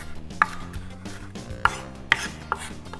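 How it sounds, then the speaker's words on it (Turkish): A few sharp knife strikes on a cutting board as onions are chopped, spaced irregularly, close by, over faint kitchen background hum. "üzerine yine 4-5 bıçak darbesiyle iyice ufaltacağım"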